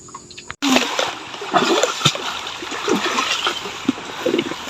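River water splashes and sloshes close by as people bathe in a river, with irregular bursts of splashing after a brief quiet start and a steady flowing wash underneath.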